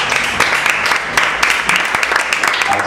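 A church youth service congregation claps in steady, loud applause, the dense patter continuing throughout with a few sharper claps standing out.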